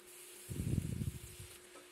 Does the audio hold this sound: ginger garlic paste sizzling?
yes